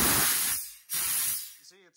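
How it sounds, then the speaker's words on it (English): Air hissing loudly out past the bead of a 285/70/17 tire on a Lexus GX470 wheel during inflation on a tire machine, two strong bursts of broad hiss with a short break, and a voice speaking at the end. "what happens when I fill up the air is it's not really going inside the tire"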